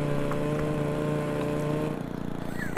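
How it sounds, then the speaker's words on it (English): A lawnmower engine in the video game Happy Wheels drones with a steady buzzing hum, then breaks into a choppier, stuttering chug near the end with a short sharp hit. "Just get eaten by a lawnmower."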